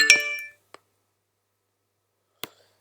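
Computer notification sound, a short bright chime at the start followed by two faint brief ticks, with quiet gaps between.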